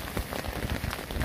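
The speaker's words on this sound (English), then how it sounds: "the rain is easing up a little bit" Rain patters steadily at night during hammock camping in wet, windy weather, a dense close hiss of drops striking the tarp surface with no voices.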